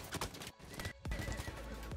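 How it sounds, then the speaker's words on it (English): Rhythmic hoofbeats and a horse's whinny in Battlefield 1, loud and close, with game sound effects around them. "What's the point of going on horses in this game?"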